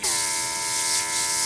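A small airbrush compressor runs steadily close by, giving a constant buzzing electric hum with a clear tonal whine and an airy hiss on top.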